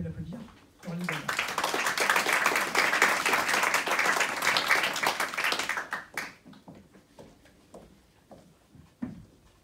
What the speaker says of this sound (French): On peut l'applaudir, Coralie Gaillard